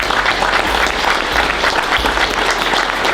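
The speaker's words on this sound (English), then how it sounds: "Give him a round of applause." Steady, dense audience applause fills the space, loud and sustained throughout for an athlete standing up at a college football team gathering, with no voices above it.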